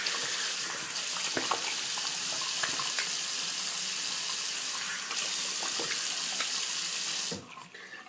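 Steady running tap water splashing into a sink while someone wets their face for shaving, a continuous hiss that carries on for several seconds before cutting off near the end.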